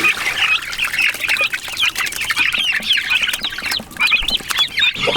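Dense, continuous clucking and squawking from a flock of chickens kept in a chicken tractor on a homestead, many birds calling close by and overlapping throughout.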